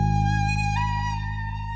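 A bass line thrums beneath a flute melody made in FL Studio, with a deep pulsing low end and a clear, sustained tonal line on top, loud and steady with no talk.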